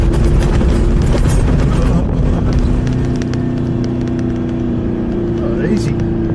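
A 4WD car in low range grinds over soft sand dunes, its engine droning loud and steady up close with a rumbling, bumpy low end, easing slightly partway through.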